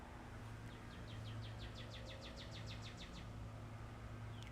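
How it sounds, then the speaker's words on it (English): A northern cardinal sings a rapid series of bright, repeated chirping notes that speed up into a trill, fairly faint against a steady low background hum. "So we hear a northern cardinal."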